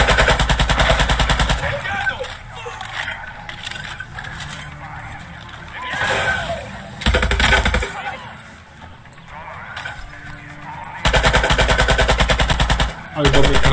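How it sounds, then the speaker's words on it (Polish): Rifle gunfire in the video game Far Cry 6 comes in loud automatic bursts, several spaced across the stretch with quieter game ambience between, while a player talks at times. "Ale dobry karabin."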